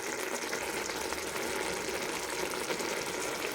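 Tomato pickle cooking in a pan on a medium flame, a steady close hiss of bubbling and sizzling that stays even throughout with no talking.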